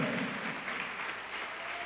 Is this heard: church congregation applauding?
yes